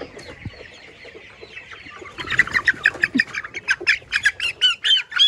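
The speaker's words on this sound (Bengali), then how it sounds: "একটা ধরি দেখি কেমন বড় হয়েছে," A farm chicken, a grown bird of about a kilogram, squawks loudly in a rapid burst of sharp repeated cries as it is caught, rising from softer background clucking.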